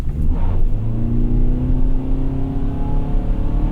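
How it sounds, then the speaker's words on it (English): A 2021 Toyota Sienna minivan accelerating hard to 60 mph on a wet road, a loud, steady engine drone climbing in pitch with rising harmonics, close and continuous. "Got a little bit of slip from the front tires initially, but then I think the rears kicked in, took this thing right up to 60."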